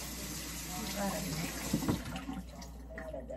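Tap water runs steadily into a kitchen sink while ingredients are washed for a beef flank dish, a continuous close splash with a brief louder gush partway through.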